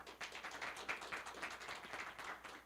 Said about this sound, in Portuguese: Salva de palmas, galera.